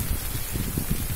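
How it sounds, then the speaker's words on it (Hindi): Dense, steady monsoon downpour of heavy rain in Rajkot, Gujarat, India, hissing and pattering continuously, close and loud, with no voices. "काफी अच्छी बारिश हो रही है"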